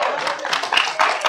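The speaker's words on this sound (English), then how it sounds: "Thank you for clapping for her." Audience members at a Chandler city council meeting give a brief burst of hand clapping, close and fairly loud, lasting only a moment.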